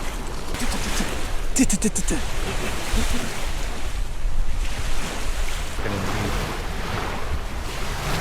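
Ocean waves wash onto a beach at Roaring Point, Maryland, a continuous surf rush mixed with wind buffeting the microphone, with a brief sharp clatter early on.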